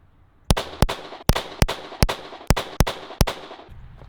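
Eight sharp, loud pistol shots from a carry pistol fitted with an Osight red dot, fired close by in a quick, slightly uneven rhythm, each crack ringing off briefly.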